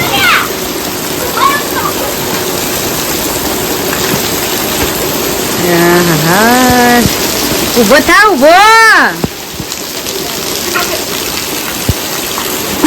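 Steady rain pours down outdoors in a continuous wash of hiss and patter, with people talking and calling out over it and a rooster-like whooping cry rising briefly near the middle.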